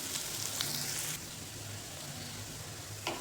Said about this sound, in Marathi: तर आता कांदा छान परतलेला आहे, जास्त नाही परतू द्यायचा.